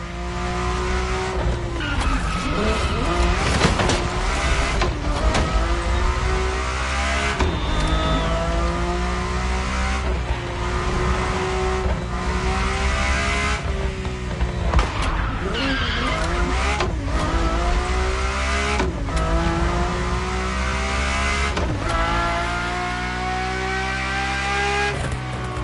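Ferrari F40 and F50 engines rev and scream in the racing game The Crew Motorfest, their pitch climbing and dropping through repeated gear changes, with tire squeal mixed in, loud and continuous with no voices.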